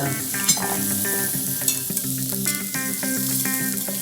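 Tuna searing in oil on a teppanyaki griddle gives a steady, close sizzle and crackle, with scraping and tapping of a metal utensil on the hot surface throughout.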